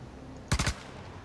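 A short burst of three rapid gunshots from a gun in the Star Citizen 3.0 video game cracks out sharply against quiet background ambience, then stops.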